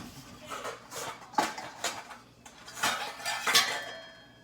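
Casserole mixture for a Reuben casserole is scraped and spooned into a bowl, with a run of clinks and scrapes of a utensil against dishware at close range and no talking.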